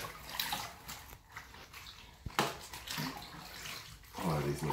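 Water gushes over freshly harvested collard greens in a fairly close, rushing pour that breaks off briefly and resumes, with a voice speaking softly in between.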